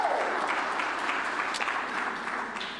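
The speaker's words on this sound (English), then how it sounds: "we can clap for that." A church congregation claps together for a few seconds during a morning service, a moderate, even patter of many hands that fades slightly at the end.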